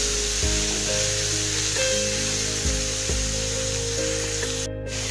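Parwal (pointed gourd) fries in a pan with salt and turmeric for a Bengali dish, giving a continuous loud sizzle with steady hum and occasional clinks, no talk.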